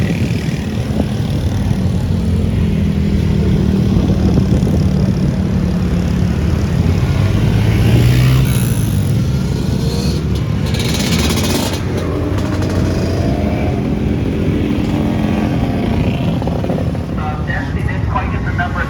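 Vintage motorcycles race at Mid-Ohio, their engines a continuous loud roar that swells and fades as bikes pass. Race commentary runs over it throughout.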